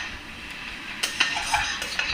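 Lid set onto a cooking pot of papaya on the stove: a few light metallic clinks and clanks over a faint background hiss, close by and with no voices.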